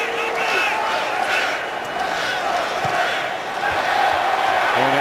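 Chicago Bears fans cheering in a stadium during an away game against the Titans, a dense roar of crowd noise that swells and dips steadily throughout, with a commentator's voice faintly underneath.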